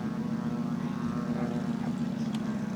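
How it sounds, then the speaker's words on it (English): Quarter-scale AT-6 Texan model airplane, about 52 pounds, with a Moki 250 radial engine, taxiing at an RC flying event; a steady, loud, throbbing engine drone holds throughout. "actually taxiing out with a quarter scale AT6 Texan Moki 250"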